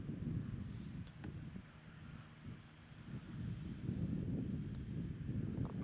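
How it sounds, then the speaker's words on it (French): Wind buffets the microphones on a golf course late in the day, a low rumbling gusty roar that swells and eases across the stretch, fairly faint overall with no talk. "on l'entend dans les micros, hein, le vent s'est un petit peu levé pour cette fin de journée."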